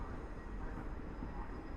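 Long-distance train hauled by EP07 1001 electric locomotive on suburban tracks at Warszawa Zachodnia station: a continuous, fairly faint broadband rumble and rolling hiss of passing cars, steady throughout.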